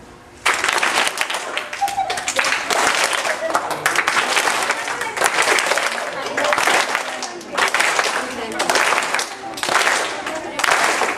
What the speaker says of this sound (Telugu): నేను చప్పట్లు కొట్టండి అన్న